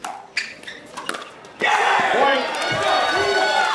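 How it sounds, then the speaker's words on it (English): Crowd cheers burst out from the D.C. team bench at a premier-level Major League Pickleball match in Miami, a loud sustained roar of voices following a few scattered paddle pops and thuds. "Cheering on a missed return"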